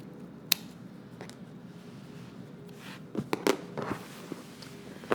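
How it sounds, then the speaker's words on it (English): Scissors trim excess zipper tape from a sewn slacks fly, giving a few sharp snips and crisp cutting sounds, clustered toward the end over quiet room noise. "And then I go ahead and trim off the excess zipper."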